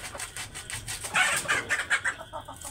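Chickens are fed freshly cut grass and give a quick run of short, rhythmic clucks at close range, with the loudest calls bunched in the middle.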